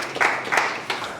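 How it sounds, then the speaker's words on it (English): An audience at a selling class claps briefly, a short burst of a few hand claps close by that fades quickly. "Clap for yourself one more time."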